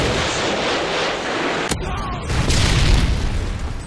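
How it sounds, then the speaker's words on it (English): A Predator missile explosion in Modern Warfare 2 on the Favela map hits as a loud, deep boom with a sharp crack, followed by heavy rumbling blast noise and a short dip before the roar resumes. "Friendly Predator missile inbound."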